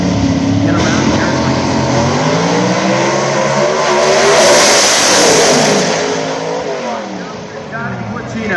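Strutmasters.com Ford drag race car at the PDRA World Finals accelerating down the track, a loud sustained engine roar that swells and shifts in pitch as it passes, with a commentator talking over it.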